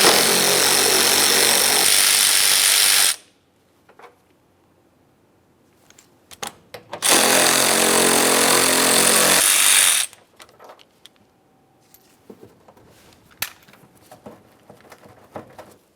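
A power tool backs out 10mm bolts holding the front bumper cover on a 2005-2010 Dodge Dakota, two loud, steady whirring bursts of about three seconds each, separated by quieter clicks and handling of the bolts and tool.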